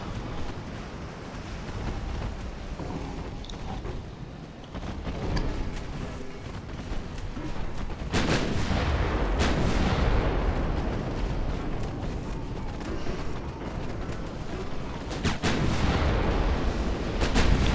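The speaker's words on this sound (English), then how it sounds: "Oh, there we go, torpedo detonation." Torpedo detonations and ship explosions in a naval strategy game battle; heavy, booming blasts with sudden loud bursts around the middle and end over a continuous low rumble of gunfire and wind-like noise.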